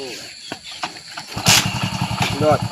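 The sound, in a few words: motorcycle engine starting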